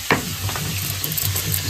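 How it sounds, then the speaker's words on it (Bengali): Fish fries in a pan of oil with a steady, close hissing sizzle and a few brief stirring clicks, no voices. "এইভাবেই আমি সব মাছ ভেজে নেব।"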